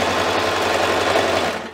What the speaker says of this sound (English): And I'm gonna sew that elastic as it's stretched.